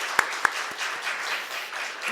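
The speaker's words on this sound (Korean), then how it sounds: "우리 격려의 박수 한번 하겠습니다." Brief applause from a church congregation during Sunday worship, opening with two sharp, loud claps close by, then a softer, thinning patter that fades within about two seconds.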